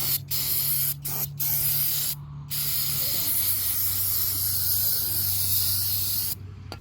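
Brake cleaner spraying from an aerosol can onto a Nissan Altima 2.5L CVT transmission pan, with several short bursts and then long continuous hissing sprays, loud and close.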